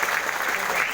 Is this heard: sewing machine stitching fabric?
no